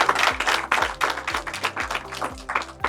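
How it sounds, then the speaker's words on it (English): Applause from an audience at a talk by Reliance Jio's CFO, bursts of clapping rising and falling over a few seconds with a voice faintly underneath. "A round of applause for Sripal"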